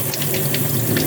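Tap water running steadily in a garden setting while fresh radishes are rinsed, a short close gush with faint splashing and no talk.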